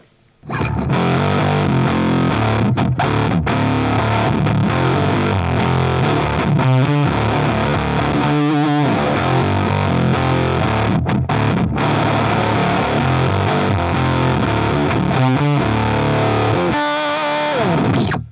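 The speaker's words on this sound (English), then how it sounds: "So let's start off with the Behringer." Electric guitar through a Behringer SF300 Super Fuzz set to a fat octave fuzz, played loud and continuous with thick, saturated chords and riffs and a few brief stops, no talking.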